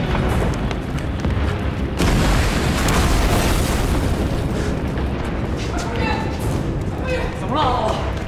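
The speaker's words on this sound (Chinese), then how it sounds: "秋瑞坊，秋瑞坊被炸了" A building blown up in a period drama: a loud, rumbling blast swells in, followed by sustained roaring debris and crashing noise, with voices shouting faintly near the end.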